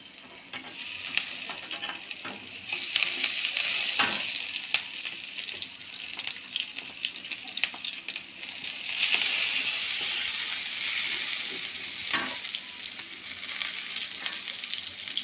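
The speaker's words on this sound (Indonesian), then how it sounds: "panaskan 2 sendok minyak goreng. Setelah itu masukkan bumbu-bumbu." Spices of red chili, shallot, garlic and tomato frying in hot cooking oil in a pan for stir-fried water spinach, a steady close sizzle with occasional stirring scrapes throughout.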